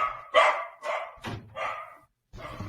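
Dogs barking at a doorbell delivery: a string of about five sharp, close barks in an uneven rhythm, followed by a short pause and one more bark.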